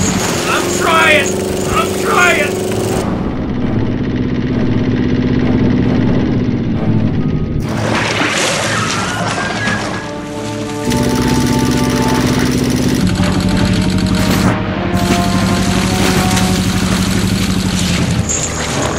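A small boat engine runs loud and rough in a staged shark-attack scene, its buzzing drone dropping out briefly and returning, while voices shout over it.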